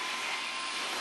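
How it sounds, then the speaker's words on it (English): A Fantic vacuum cleaner runs on its low setting with a steady, close, unbroken whooshing roar that stays level from start to finish and has no voices over it. "This little thing right here, this Fantic vacuum cleaner, works really well for this. This is on the low setting"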